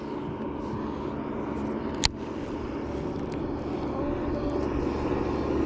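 A crab boat engine at full throttle in a Louisiana marsh gives a loud, steady roar filling the whole stretch, with one sharp click partway through and the drone swelling slightly toward the end.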